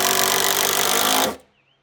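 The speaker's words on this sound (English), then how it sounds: "these are self-tapping screws, so I should just be able to drive them in without worrying about splitting the wood" A power driver sinks a self-tapping screw into a wooden arch, one loud continuous buzzing whir lasting over a second before stopping abruptly into quiet.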